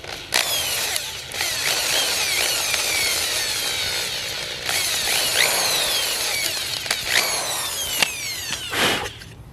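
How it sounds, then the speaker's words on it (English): A power drill bores into a 1997-2001 Honda CR-V JDM front bumper to mount fog lights, giving a steady, close, loud whine with a few brief pauses and pitch shifts as the bit bites. "So let me go ahead and drill that out real quick."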